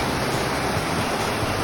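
Shingle Creek river flowing steadily, a dense unbroken rush of water close by with constant broadband roar and no voices.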